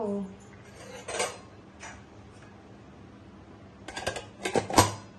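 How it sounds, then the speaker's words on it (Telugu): Metal clatter and clinks as a pressure cooker lid is shut and the cooker set on a stove in a home kitchen, a few sharp bursts early then a louder cluster of knocks near the end. "ప్రెషర్ కుక్కర్ మూత పెట్టేసి స్టవ్ మీద పెట్టారు"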